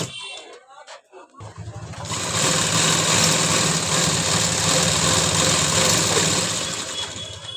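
A sewing machine runs steadily, stitching the seat seam of a dhoti salwar. Its fast, even mechanical whir starts after about two seconds and stays loud and close, following a brief stretch of voice and handling noise.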